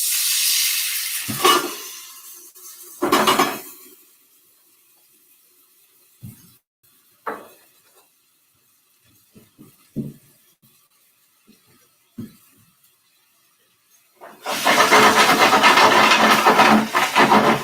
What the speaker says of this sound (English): the water just sizzling away, and you're essentially waiting for the water to completely evaporate